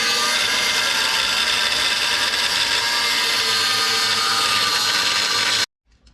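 A power tool cuts through a seized bearing on a DON 1500B combine harvester during pre-harvest repairs. The grinding, rasping whine runs loud and unbroken for nearly six seconds, then cuts off abruptly.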